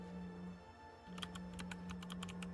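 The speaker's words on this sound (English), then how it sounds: "BTW Boka, try typing in www.drentrati.com." A web address is typed on a computer keyboard: a quick run of light clicky keystrokes in irregular rhythm over a low steady electronic hum.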